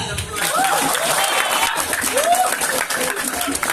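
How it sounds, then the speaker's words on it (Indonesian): Applause from an audience at a humorous Islamic sermon, a steady wash of clapping with a voice or two calling out above it, fairly loud throughout. "Tepuk tangan."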